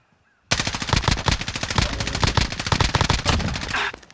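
Automatic gunfire in Call of Duty Modern Warfare Plunder bursts in after a brief quiet start, a loud, rapid string of close shots that runs on steadily until just before the end.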